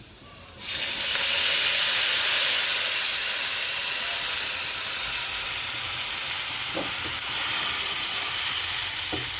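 Spiced buttermilk hits hot garlic tempering in a pan and bursts into a loud sizzle and hiss that settles into steady close frying, with a few faint clinks.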